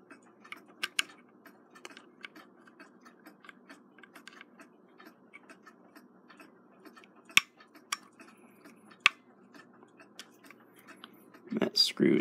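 A small screwdriver works at tiny screws on the bezel of a Brunswick Ultona phonograph reproducer, making faint scattered ticks and clicks close up. A few sharper taps come through, with a louder rattle at the end.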